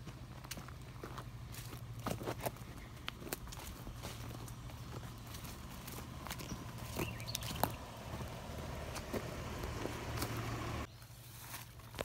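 Footsteps on an outdoor trail on rural lakefront land at Lake of the Ozarks, a steady series of close crunching steps over a constant low hum until they stop near the end.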